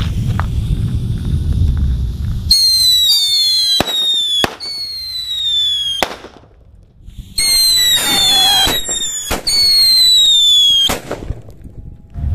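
Thunder firecrackers are lit together and go off outdoors as a run of sharp, loud bangs mixed with shrill whistling and fizzing bursts, with short quiet gaps between volleys.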